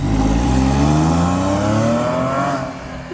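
A Porsche 997 convertible drives past, its engine note loud and close and rising as it accelerates, then easing off toward the end with a few faint exhaust burbles.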